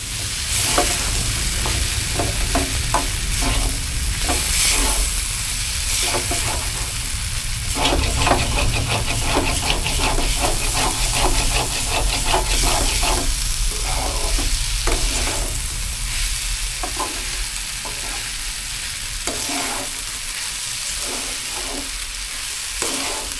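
Bottle gourd peel fry sizzles loudly in a pan while a spatula stirs it, giving repeated scraping strokes over constant hissing oil.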